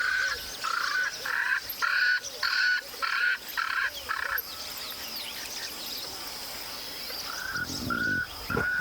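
A Swainson's francolin calls loudly from close by in the African bush, a run of harsh, rasping, evenly spaced notes, then a pause and another short series, with no talk.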